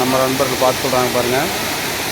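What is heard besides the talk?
waterfall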